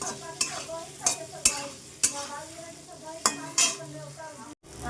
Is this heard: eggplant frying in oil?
yes